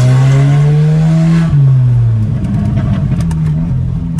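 Remapped Audi Q3 with a 1.4 TSI engine revving hard on a test drive, loud rising engine note that climbs, breaks at a shift, then continues with crackling pops from the exhaust.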